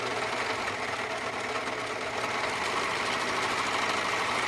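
Serger sewing machine running continuously at speed, a close, steady mechanical whir and clatter with a slight knocking quality throughout.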